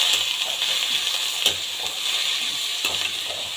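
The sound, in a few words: vegetables sautéing in a pan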